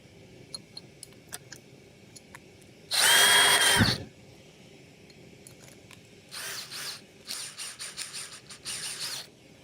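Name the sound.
drill running during glassblowing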